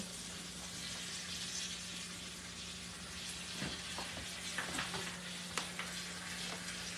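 Apple pies fry in a pan of oil and butter, a steady close sizzle with small pops and crackles scattered through it, no one talking.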